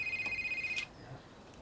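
A mobile phone gives a pulsing electronic ring close by, then cuts off sharply just under a second in, followed by quiet room ambience and faint movement.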